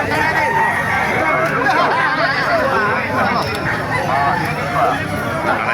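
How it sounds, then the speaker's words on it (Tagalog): Many gamecocks cluck and crow amid a dense babble of voices at an early-morning rooster market in Bocaue, Bulacan, a busy crowded scene with continuous noise. "Maraming manok dito."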